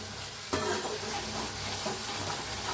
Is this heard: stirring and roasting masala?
yes